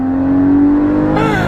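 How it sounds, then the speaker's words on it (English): Porsche Cayman GT4 exhaust holding a steady, loud drone, then surging into a sharp, rising rev near the end, heard close and alone. "just listen to this exhaust"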